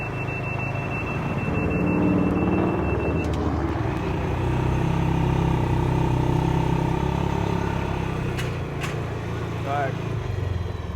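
A Massimo Buck 450 4x4 side-by-side drives along with a steady engine drone and road rumble, a couple of brief beeps and some rattles heard over it.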